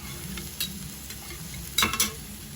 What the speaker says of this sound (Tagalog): ilagay natin yung natitirang mga bawang para mas na